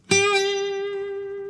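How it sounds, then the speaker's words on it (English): A single acoustic guitar note is plucked and rings out clearly, its pitch wavering in a quick, shallow vibrato as it slowly fades. "Kind of a fast vibrato."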